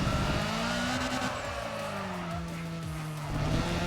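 Tires skidding under a held handbrake in Need for Speed ProStreet, a loud sustained squeal with wavering pitch over a roaring car engine, close and continuous.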